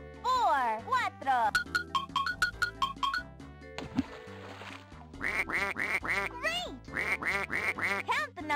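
Cartoon ducks quack one after another in a bright, musical children's-show sequence, a string of quacks interleaved with melodic chimes and tones, loud and close with a playful rhythm.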